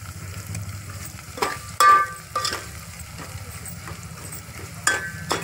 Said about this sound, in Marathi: आता ही मिरच्या, कढीपत्ता, कांदा, जिरं आता मस्त हे होऊ द्यायचं तेला.